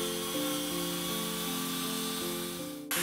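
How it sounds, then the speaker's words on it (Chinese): A rotary mechanical brush scrubs rust off a metal public artwork, a steady close motor whine with slight pitch shifts that cuts off just before the end. "所以我们现在看到的机械的这个毛刷啊，在滚动的过程，去将这个所谓的斑驳的这个部分呢"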